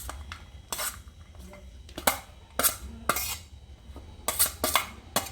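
Shredded chicken is dropped into a bowl for a chicken mayo sandwich filling, with repeated clinks and scrapes of a spoon against the dish, sharp and close, in irregular bursts.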